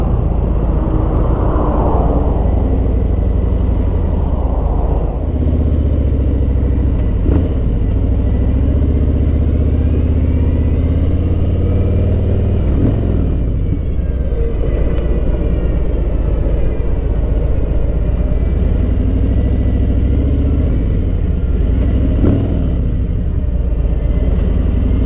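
A Harley-Davidson M8 Street Glide Special motorcycle runs at close range, its engine a loud, steady low rumble with the revs rising and falling several times as it moves along.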